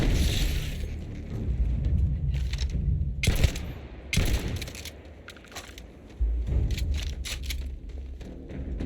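Gunfire in the video game Starfield, repeated loud bursts of shots and booming impacts recurring every second or so over a rumbling battle background.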